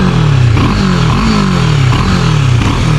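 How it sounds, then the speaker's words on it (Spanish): A CFMOTO 650 MT motorcycle engine running, a loud, close throbbing drone whose pitch rises and falls repeatedly with throttle blips, recorded alone without talk. "pero suena la moto"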